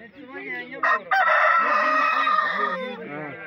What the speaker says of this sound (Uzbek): Bu jalansiq tovuqlar, mana kukkalar.